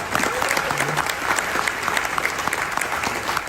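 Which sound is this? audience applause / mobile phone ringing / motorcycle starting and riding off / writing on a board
audience applause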